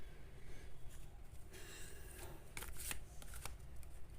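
Tarot cards shuffled by hand give a close, steady riffling and flapping, with a few sharper snaps of cards near the end, over a faint background hiss.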